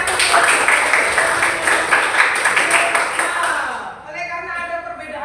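Students in an eleventh-grade Christian religious education class applaud with rapid, dense clapping for about four seconds that then fades out, after which a voice starts speaking.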